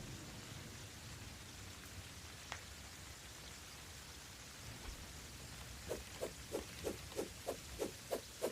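Rain in the video game Terraria with the Calamity Mod: a steady, soft hiss of falling rain. Near the end a run of evenly spaced short taps, about eight of them, joins it.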